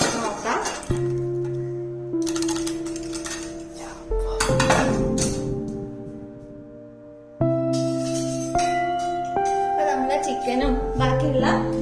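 A metal pressure cooker lid comes off after a chicken stew has cooked: loud clanks and ringing metallic knocks of the lid and pot, separated by lingering resonant tones and softer rattles.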